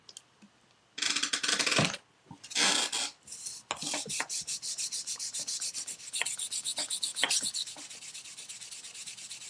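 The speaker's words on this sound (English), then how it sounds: "I'm just taking the varnish off." Sandpaper rubbing varnish off a wooden coffee table in a craft shop, heard as long loud rasping strokes in a burst of scrubbing followed by a steady run of quicker back-and-forth passes, close and with no talking.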